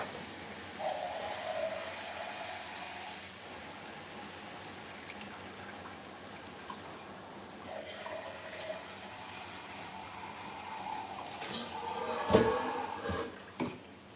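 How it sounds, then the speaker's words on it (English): A kitchen tap runs water into a pot for cooking potatoes, a steady close hiss of flow lasting throughout, rising and gurgling louder near the end as the pot fills, followed by a few clunks, with no talking. "Now I need some water for the potatoes to cook."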